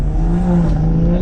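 A BMW M140i with a tuned B58 inline-six engine rumbles with a deep, loud, steady drone that rises slightly as it revs, heard close with no talking.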